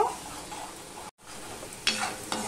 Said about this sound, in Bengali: দিয়ে আমি ভালো করে কষিয়ে নেব।